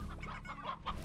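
Hens clucking in the farming video game Slime Rancher, a few short, close clucks and squawks bunched together over a steady game ambience, no talk.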